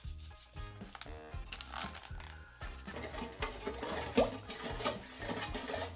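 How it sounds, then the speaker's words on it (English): A sanitizer packet is mixed into a gallon of water, with crinkling of packaging followed by sloshing and splashing, close and moderately loud, in irregular bursts without talk. "let's mix the rest of our sanitizer packet with this gallon of water."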